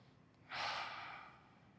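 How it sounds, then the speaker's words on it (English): Controlled breathing during a beginner yoga stretch: a single slow, soft exhale that swells and then fades, heard close and quiet with nothing else around it. "Again, nice and controlled with the breathing."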